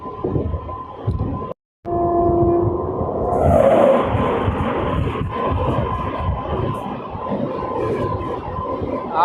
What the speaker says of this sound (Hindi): ये पहली क्रॉसिंग हावड़ा बीकानेर एक्सप्रेस के साथ।